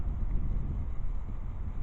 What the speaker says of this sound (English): It's pretty windy out here today